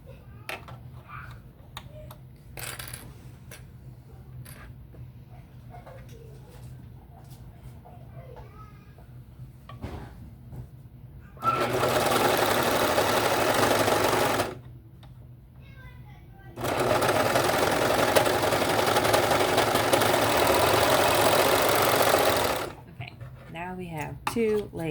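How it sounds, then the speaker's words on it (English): A sewing machine stitches the inseam of children's shortie overalls, running close and loud in two steady bursts of a few seconds each, after quieter handling of fabric and a few clicks. "match up the middle piece, the middle inseam, and we're going to sew that together. Now sew the inseam."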